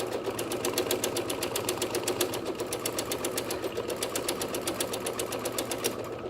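A sewing machine stitches thread across a sky area at a steady fast rhythm, its needle clatter loud, even and close with a low motor hum underneath.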